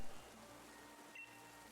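Rain falling on a beach in the video game Pokemon Shield, a soft steady hiss of patter that stays faint and even throughout.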